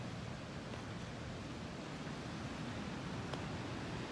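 A steady broadband rush of flowing water, constant and fairly loud, with no breaks or other distinct sounds.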